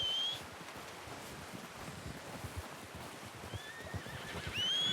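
Horse neighing in Red Dead Redemption 2 with a bright whinny at the start and a longer rising whinny near the end, over steady wind and rustling outdoors, fairly close and moderately loud.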